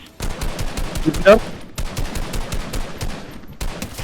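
Automatic gunfire in Fortnite Battle Royale: fast, evenly spaced rounds in long sustained bursts, sharp and close, with a brief pause mid-way before firing resumes.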